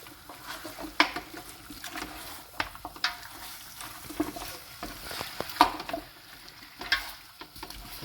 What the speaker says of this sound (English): Now I want to get all these ribs stirred into the paste so they all get coated.